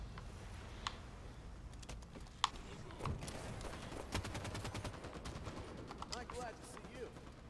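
Gunfire in Halo 5, a scattered mix of faint, rapid shots and sharper isolated cracks set against quieter game sounds, with a person talking at times.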